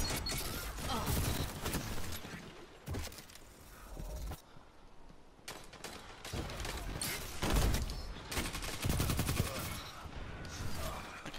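Sustained bursts of machine gun fire from a Destiny Crucible match ring out in a first-person shooter, rapid and dense, broken by brief pauses between volleys.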